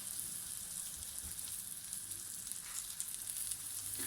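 Bread rolls cook in butter in a pan over medium heat, giving a soft, steady sizzle and crackle of frying that holds at a low, even level throughout.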